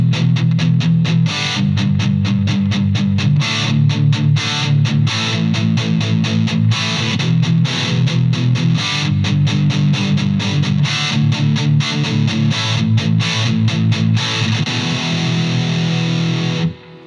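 An electric guitar plays a driven, distorted riff through a Bogner Goldfinger Superlead amp with reverb and boost engaged, loud and dense with a steady chugging low end for about seventeen seconds before cutting off.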